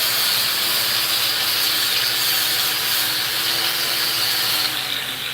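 Brake cleaner sprays onto engine parts in one long, continuous pressurized hiss, close and fairly loud, steady throughout and easing slightly at the very end, with no voices.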